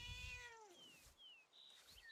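A cat in Where Winds Meet gives a clear, close meow with a falling pitch, followed by faint high chirping tones.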